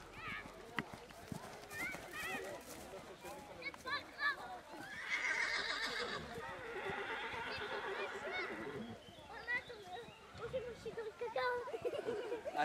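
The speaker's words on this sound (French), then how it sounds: "attention aux chevaux" Horses at an equestrian event whinny repeatedly and their hooves clop on the ground nearby, while people talk and call out over the animals throughout.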